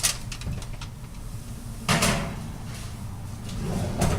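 An oven door on a home kitchen oven swings shut with a solid clunk after stuffed Cornish hens go in, set among softer handling knocks and clatter nearby, with no talking.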